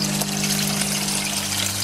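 An air stone in an aquaponic fish tank keeps up a steady fizzing bubble and water trickle, close and continuous, with a low hum underneath.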